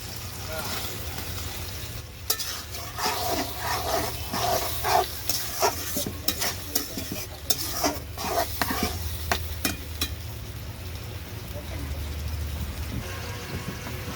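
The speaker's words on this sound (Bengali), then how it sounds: "আলু দিয়ে গুঁড়া দিয়ে কষায় নিতে আসছি।" Fried potatoes are stirred in hot oil with ground spices: repeated scraping strokes of a spoon in the pan over a soft sizzle, with quieter steady frying at the start and end.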